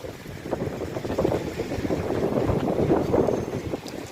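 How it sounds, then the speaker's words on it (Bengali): Strong windstorm roars steadily across the microphone on a road in Saudi Arabia, a continuous gusty rush with no voices. "গাছ টাছ দেখলে আপনারা বুঝতে পারবেন প্রচুর ঝড় হচ্ছে"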